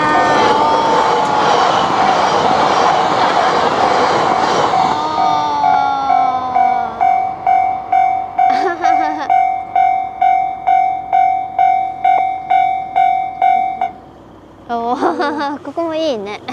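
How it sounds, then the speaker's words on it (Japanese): A Yamagata Shinkansen E3-series train rushes loudly past a gate-type railroad crossing, its roar mixing with the crossing bell's rapid steady dinging, followed by a rhythmic series of wheel clatters as the cars pass, then people talk nearby. "山形新幹線 E3 系も見ることができましたね。"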